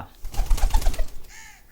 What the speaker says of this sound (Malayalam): കണ്ടില്ലേ ഇത് ഞങ്ങളുടെ പ്രാവ് കേട്ടോ